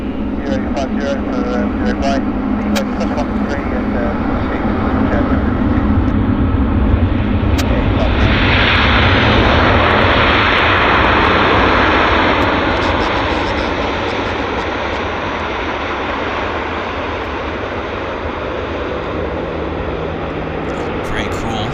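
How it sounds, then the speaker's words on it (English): A WestJet airliner landing at Vancouver airport, its engine roar broad and loud throughout, swelling into a rushing surge midway and then easing, heard from a distance outdoors alongside background voices. "here's our WestJet, actually, is landing now from Huatulco, Mexico"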